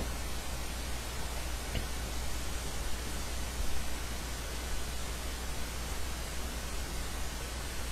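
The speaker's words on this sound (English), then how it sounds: "Got a fan running." A fan runs steadily in a room beside a car amplifier setup, giving a constant, fairly faint broadband whoosh with a low hum beneath and no talk.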